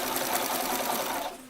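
A sewing machine stitching elastic onto the side of a T-shirt, a fast continuous mechanical whir close up, slowing slightly at the end.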